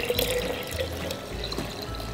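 Purified water is poured into a glass jar, a quiet, continuous splashing trickle with small bright ringing tones, close up and with no talk.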